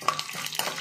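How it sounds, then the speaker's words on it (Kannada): Chana dal and urad dal fry briefly in hot oil, a soft crackling sizzle with a few stirring clinks, close and fairly quiet. "ಇದು ಸ್ವಲ್ಪನೇ ಫ್ರೈ ಮಾಡ್ಕೊಳ್ಳೋಣ"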